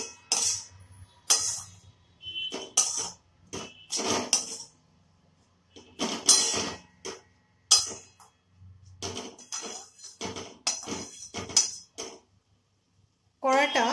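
Bursts of metal scraping and clanking in a pot as turmeric is stirred into onions for Bengali pyaj posto, broken up by short quiet gaps.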